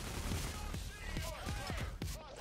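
Bursts of gunfire in Payday: The Heist crackle in quick repeated shots, fairly faint and mixed with voices talking over the shooting.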